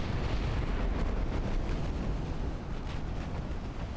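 Naval gunfire and shell explosions from heavy cruisers and battleships in the naval battle game Ultimate Admiral: Dreadnoughts form a dense, continuous rumble of booms and bursts, loud and sustained with no clear gaps.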